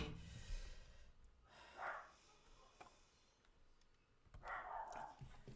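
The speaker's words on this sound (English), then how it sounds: "What the hell is it barking at?" A poodle gives a few faint, breathy barks and snorts at a distance, with short bursts separated by quiet gaps and no speech over them.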